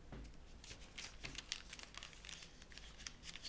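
Paper being creased and folded into an origami dragon, giving soft crinkling and rustling with small scattered crackles at a steady working pace, close but quiet.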